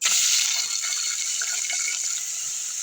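Beef liver dropped into hot oil in a dry cooking pot gives a steady, bright sizzle and hiss that holds close and loud throughout, with no talking.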